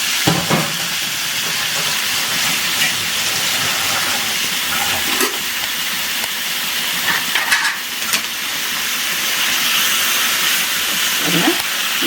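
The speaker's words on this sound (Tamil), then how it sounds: "இந்த பட்டர்லேயும் இந்த எண்ணெயிலையுமே இது நல்லா அப்படி வதங்கி" Chicken pieces sautéing in butter and oil for butter chicken sizzle with a steady, dense hiss that holds at an even level throughout, with a few brief stirring clicks and no speech.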